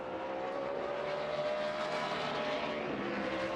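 A NASCAR race car engine drones steadily at high revs on a qualifying lap at the 2016 Goody's Fast Relief 500, a loud continuous roar with a faint pitch dip near the end and no talk over it.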